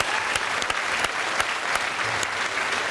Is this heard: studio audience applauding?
yes